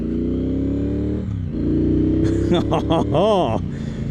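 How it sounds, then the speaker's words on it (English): A stock 2024 Triumph Bonneville Bobber rumbles steadily while ridden on an open road, its engine note rising and falling through a few quick revs, with a rider talking over it. "this bike sounds so good stock"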